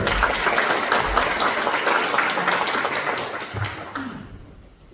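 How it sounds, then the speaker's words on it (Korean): An audience at a Korean book talk on the history of thought-control laws claps steadily and fairly close to welcome a lawyers' association president, the applause tapering off at the end. "여러분 박수로 모셔주십시오"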